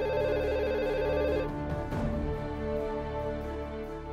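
A telephone rings in an office, a steady repeating electronic ring sounding clearly in the first second and a half before fading into a lower background tone.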